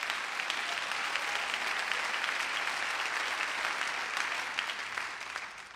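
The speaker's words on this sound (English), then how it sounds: "Can you clap to the Lord right now?" A church congregation claps during a sermon, a dense and continuous patter of many hands at moderate distance, steady throughout and easing off slightly near the end.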